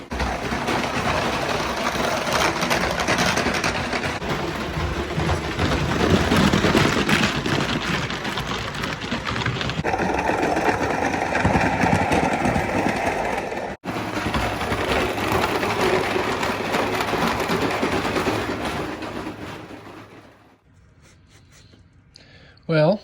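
A Mamod Mk 3 live steam engine runs close by with a busy hissing, chuffing mechanical patter that holds steady for about twenty seconds before cutting off abruptly, with someone talking over it.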